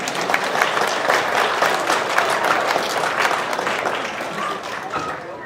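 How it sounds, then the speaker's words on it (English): Audience applause fills a university chemistry demonstration night, a steady wash of many hands clapping at moderate loudness throughout, with faint voices mixed underneath. "Let's give Lucas a big round of applause."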